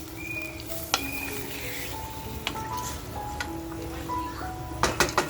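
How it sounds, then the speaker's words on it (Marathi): Onion sizzles in hot oil for a homemade spicy mutton korma, a steady frying hiss with a few sharp clinks of a spoon or pan and faint tonal kitchen sounds, close and moderately loud. "कांदा आपण फ्राय केल्यानंतर तेल छान गरम होतं."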